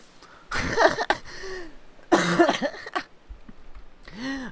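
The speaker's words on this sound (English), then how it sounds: "Oh, that made me cough a little bit." A person coughs in two harsh, close bursts about a second and a half apart, each followed by a short throat-clearing sound and a brief voiced grunt at the end.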